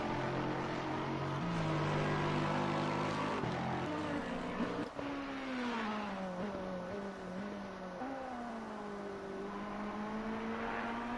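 Ferrari race car engine in a simulated Bathurst endurance race, a steady, loud high-pitched drone with rising and falling pitch through gear shifts, continuous throughout.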